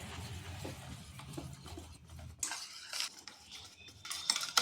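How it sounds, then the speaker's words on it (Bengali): Mashed potato filling for aloo paratha being mixed and beaten in a bowl, soft scraping and clinking of a spoon against the dish, quiet and close, with a louder burst of scraping midway. "বেশ কিছুক্ষণ সময় ধরে এইভাবে মিশিয়ে নিতে হবে"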